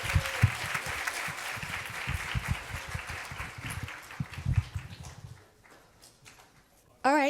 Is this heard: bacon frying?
no